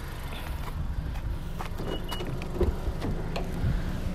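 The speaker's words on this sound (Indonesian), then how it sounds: "Kita lihat sekarang ke dalam kabin, apa yang terjadi di dalam kabin ketika mesin nyala seperti ini." A 2020 Honda Civic Turbo sedan idles steadily after a remote start, its low engine hum continuous and close, with faint clicks and cabin noises on top.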